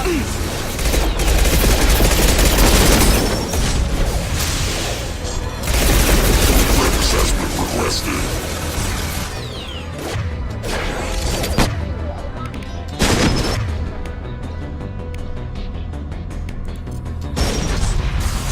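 Loud video game battle with dense bursts of gunfire and booming explosions, sustained throughout with several heavier impact peaks, while a player talks over the action.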